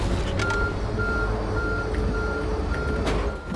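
A forklift in a heist video game sounds its reversing alarm, a steady series of evenly spaced electronic beeps over a constant low engine rumble, loud and close.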